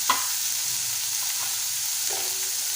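Malvani masala, coriander powder and garam masala being stirred into sprouted black vatana usal in a pan, with a few soft scrapes and a faint sizzle over steady background hiss.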